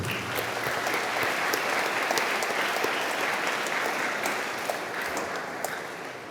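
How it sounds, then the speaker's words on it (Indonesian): A church congregation claps at a Christmas Eve vigil Mass in a chapel, a steady, moderately distant ovation lasting the whole stretch with no voices over it. "Tepuk tangan untuk Anda semua"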